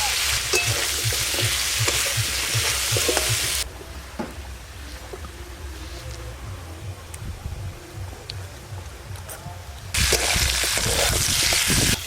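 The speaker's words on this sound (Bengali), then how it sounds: "মাছ ভাজার তেলে ঝোলের জন্য আলুগুলো ভালো করে ভেজে নেব প্রথমে" Potatoes fry in oil left from frying fish, giving a loud, steady sizzle that fades quieter in the middle and then swells again, with light stirring scrapes.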